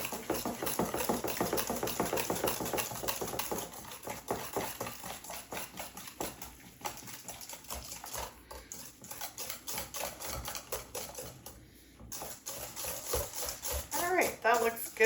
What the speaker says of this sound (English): we're just going to whisk that together. All of our sugar and oil and eggs until they're well combined.